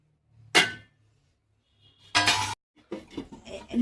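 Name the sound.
lid being taken off a cooking pot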